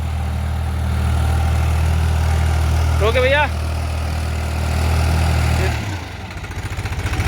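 A 50 hp tractor engine runs with a rotavator, giving a loud, steady low drone close by. Someone speaks briefly partway through, and the engine note drops and changes near the end.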